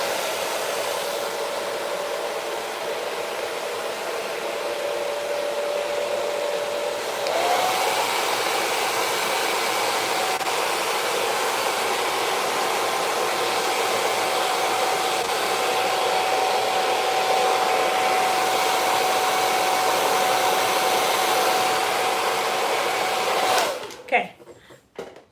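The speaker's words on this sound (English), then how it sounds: "So now I'm going to take my diffuser. This is what makes it hard. Turn it on high." A hair dryer fitted with a diffuser blows on its high setting, a loud, continuous rushing whir with a faint steady whine that holds for over twenty seconds before switching off with a few bumps.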